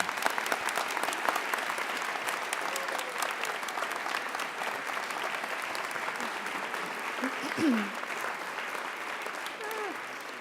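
Audience applause at an academic and leadership awards convocation, a steady dense clapping from a large crowd lasting throughout, with a faint voice or two audible briefly beneath it.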